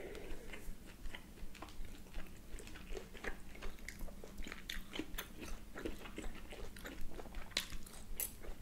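Close, crisp chewing and biting of grilled beef steak with grilled zucchini, a steady run of wet crunchy bites and mastication throughout with no talking.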